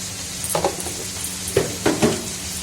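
Spices with turmeric and salt fried in a pan, a soft continuous sizzle broken by a few clinks and scrapes of a spoon stirring against the metal.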